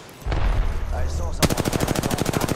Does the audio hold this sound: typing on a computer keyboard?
no